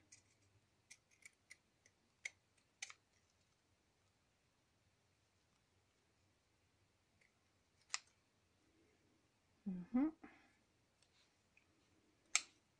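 Sharp snips of small scissors cutting paper, a quick run of clicks at first, then a few isolated cuts spread out with quiet gaps between.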